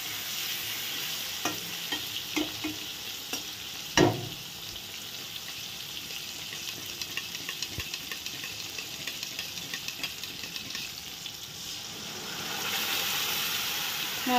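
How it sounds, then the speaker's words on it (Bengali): Tomato frying in a pan gives a soft, steady sizzle. Now and then a utensil clinks and scrapes as it is stirred, close but fairly quiet, and the sizzle swells near the end with no one talking. "আর এখানে টমেটোটা ভাজা হচ্ছে।"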